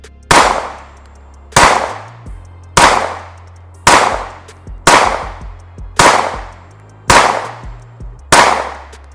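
Sig Sauer 365 Fuse pistol firing 115 grain steel ammunition, eight loud, sharp shots at an even pace about a second apart. Each crack is close and followed by a short ringing decay, with no talking.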